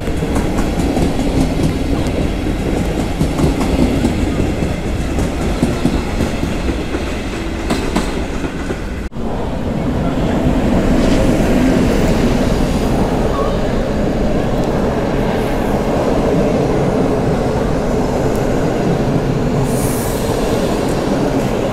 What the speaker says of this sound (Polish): To jest właśnie pociąg kursujący między Warszawą Wschodnią a Kijowem.